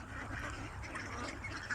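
Ducks on a duck farm quack in a continuous, busy chorus, a dense flock of overlapping calls at moderate level with steady outdoor background.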